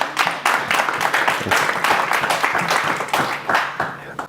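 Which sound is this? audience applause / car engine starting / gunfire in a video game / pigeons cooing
audience applause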